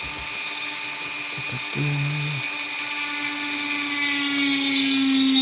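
High-pitched whine of a power carving tool cutting into a wood burl bowl, steady and close, with the pitch dipping briefly as the cutter bites.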